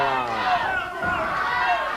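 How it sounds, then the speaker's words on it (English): A wrestling arena crowd chants in unison, loud and continuous, cheering for Doug Gilbert during his USWA heavyweight title bout against Brian Lee. "The crowd is chanting, "Go, Doug, go.""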